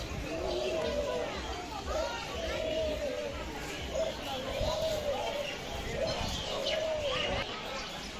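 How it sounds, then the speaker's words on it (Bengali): White doves coo in soft, repeated phrases amid a busy crowd of chattering voices and children playing nearby at Swapnapuri park in Dinajpur. "এগুলো হচ্ছে সাদা ঘুঘু পাখি"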